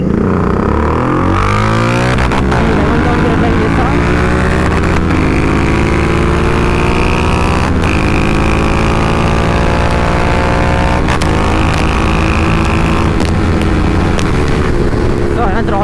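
Two tuned motorcycles, a KTM Duke 390 and a Royal Enfield GT 650, accelerate hard through the gears in a drag race, engines roaring loudly and continuously with rising and falling revs and brief shift breaks.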